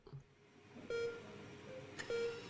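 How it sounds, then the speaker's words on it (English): Heart monitor in the video game Not For Broadcast, two clear electronic beeps about a second apart, steady in pitch and fairly loud over a quiet background, with no talking. "The rhythmic beeping of the heart monitor brings you slowly back to consciousness."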